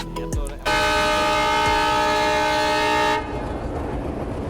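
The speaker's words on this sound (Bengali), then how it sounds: "এখান দিয়ে আরেকটা ট্রেন আসতেছে" A train horn blares loudly and steadily for a few seconds at Rajbari train station, Bangladesh, then cuts off, leaving the rumble and clatter of a passing train close by.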